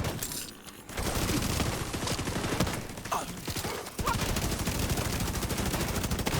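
A deployed turret in a video game opens up in rapid automatic bursts, a dense, loud rattle of gunfire that pauses briefly before resuming, with a voice speaking faintly underneath.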